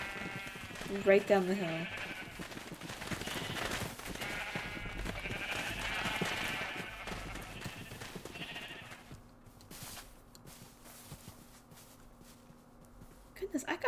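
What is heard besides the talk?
sheep bleating on a sheep farm in Minecraft video game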